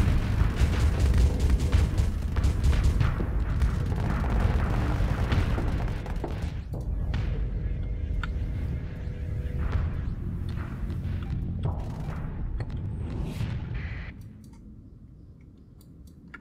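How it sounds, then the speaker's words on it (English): Bombs bursting during a space battle in the Starsector game, a dense run of loud booms, crackles and impacts layered over a rumbling low roar that thins out toward the end. "Bombs incoming."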